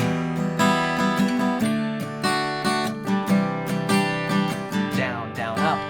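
Acoustic guitar chords strummed in a steady rhythm, bright and close, with regular down-up strokes and no voice.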